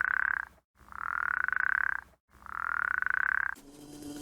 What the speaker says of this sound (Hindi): एक मेंढक था जिसका नाम था टर्रू, और वो सारा दिन टर टर टर करता रहता था।